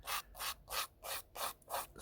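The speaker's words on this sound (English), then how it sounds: "scrape off the salt." An old travel toothbrush scrubs salt off a 1/72 scale model, with seven brisk, even back-and-forth strokes that scratch close and fairly loud, with short gaps between them and no voices.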